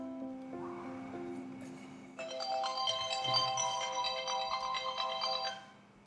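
A telephone rings with an electronic ringtone, a tonal melodic pattern that grows louder and fuller midway, repeating for several seconds before cutting off, with no voices.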